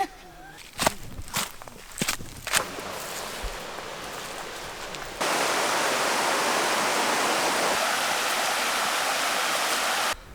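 A jungle waterfall near Chiang Mai, Thailand, heard as a loud, steady broadband roar that starts abruptly and fills the second half, after a few footsteps and thumps.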